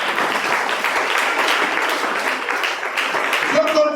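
Church congregation at a evening teaching service applauding, dense continuous clapping filling the room, loud and sustained throughout, with voices mixed in near the end.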